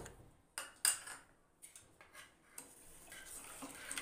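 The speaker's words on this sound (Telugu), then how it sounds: "ఈ కస్టర్డ్ పౌడర్ని ఇందులో మిక్స్ చేసుకొని" A spoon stirs custard powder into a fruit salad mixture, giving faint, sporadic clinks and scrapes against the vessel in a quiet room.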